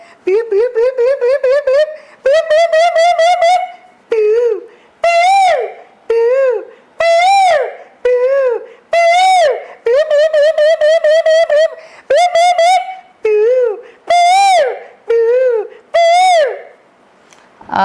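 A voice imitates a cuckoo, whistling rising two-note calls in rapid repeated bursts, loud and close, with short pauses between phrases.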